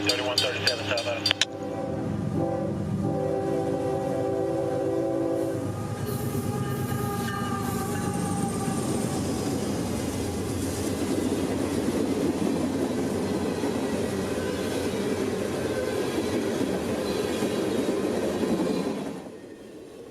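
Freight train 453 rolls southbound along the Yeoman subdivision near Vitus Junction, with a loud close passing rumble and steady wheel clatter after a brief horn-like tone at the start, lasting about twenty seconds.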